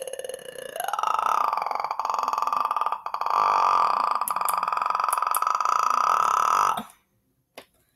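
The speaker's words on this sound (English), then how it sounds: "I had to burp." A man lets out one long, loud, drawn-out burp lasting several seconds, close to the microphone, followed by a short faint sound after it ends.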